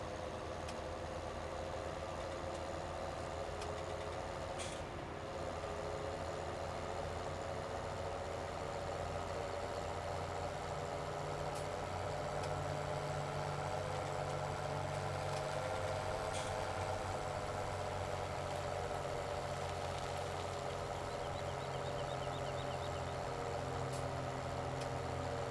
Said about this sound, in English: Come on, tractor, pull the hill.